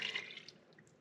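Water poured onto chunks of beef fat in a pot for rendering tallow, a brief soft splashing and trickling that fades to faint drips.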